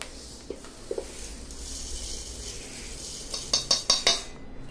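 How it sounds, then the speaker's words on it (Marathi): Dry-roasted jowar grains are poured from a hot pan into a metal vessel, with soft scraping and rustling of grain followed by a few sharp metallic clinks and rattles near the end, close and fairly quiet. "ती पण आपण भांड्यामध्ये ओतून घेऊया"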